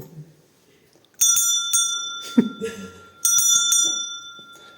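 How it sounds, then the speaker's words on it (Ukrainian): A novelty bell shaped like a pickelhaube spiked helmet rings twice with bright, sustained metallic tones, each strike decaying slowly; a brief low voice and a laugh-like sound come between the rings. "Це дзвоник у вигляді Пікельхельма."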